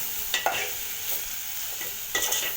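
Bitter gourd curry with a pinch of salt stirred in a pan over a medium flame, a constant soft sizzle with a few scraping spoon strokes near the start and end.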